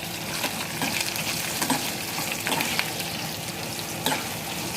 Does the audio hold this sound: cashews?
yes